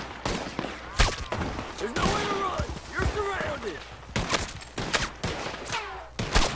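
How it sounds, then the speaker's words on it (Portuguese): Gunfire crackles through an NPC gunfight in Red Dead Redemption 2, sharp shots and short volleys popping at irregular intervals, some close and loud, with a voice speaking over the fighting. "eles estão atirando em mim"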